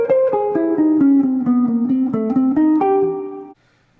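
Jazz guitar playing a line in a particular guitarist's style with chromatic approaches, a clean single-note run of quick connected notes shifting in pitch, close and alone, ending on a held note that cuts off.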